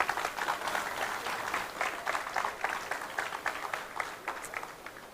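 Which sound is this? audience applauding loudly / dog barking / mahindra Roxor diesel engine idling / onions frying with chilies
audience applauding loudly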